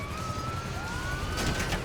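A police car siren in GTA V wails with rising and falling tones over a loud, busy bed of game noise, sounding continuous across the moment.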